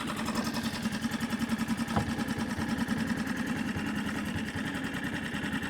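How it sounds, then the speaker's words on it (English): A new Hangkai 6.5 four-stroke outboard motor idles unevenly, a close, rapid, chugging pulse of low thuds repeating steadily with a slightly rough, jerky rhythm. "It's a jerky little thing at idle."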